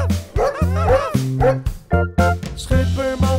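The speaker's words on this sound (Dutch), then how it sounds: "Een hond." In a Dutch children's song, a dog yips and barks in a quick series of short, bright calls over a simple musical backing, near and clear.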